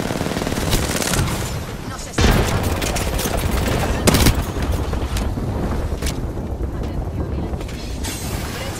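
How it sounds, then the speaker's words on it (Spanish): Rapid bursts of automatic gunfire and single shots from Apex Legends crack loudly and close, with sharp louder blasts near the two-second and four-second marks and a voice talking over the shooting. "Me están disparando."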